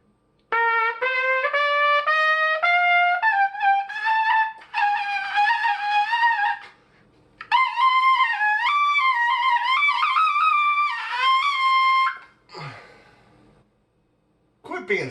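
A trumpet plays a series of high-register notes, bright and loud, in a few phrases with short breaks and no talking.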